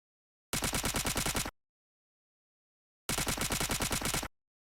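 Rapid automatic gunfire from weapons, including a submachine gun, in a multiplayer third-person shooter game: two loud, close bursts about a second each, separated by a pause of silence.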